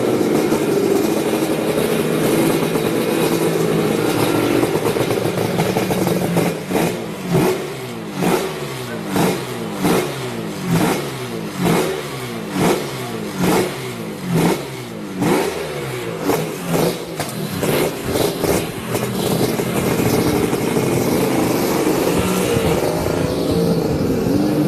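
A two-stroke motorcycle engine revs hard and repeatedly, with sharp rising and falling bursts in a rapid, rhythmic pattern. The loud, close engine runs continuously with no talk.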